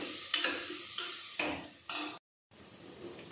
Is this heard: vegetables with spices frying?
yes